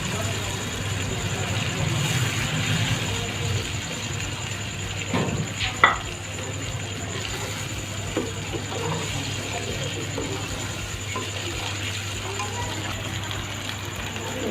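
Eggs being stirred into a frying onion masala in a pan for anda bhurji, with steady scraping and clicking of the spoon over a low sizzle and a constant background hum, while someone talks.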